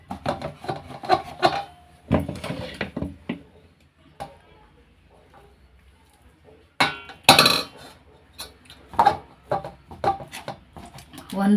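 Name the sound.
mashing cooked rice in a steel bowl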